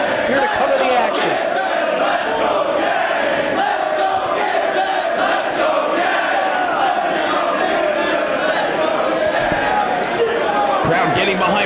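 A dense wrestling arena crowd at a Ring of Honor match, Joe versus Kobashi, roars and cheers continuously for both wrestlers, loud and sustained, with a commentator's voice mixed under the noise.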